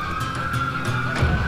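Police car siren in the video game Call of Juarez: The Cartel, a loud wailing electronic tone holding steady with rhythmic pulses, sounding close amid engine and game noise.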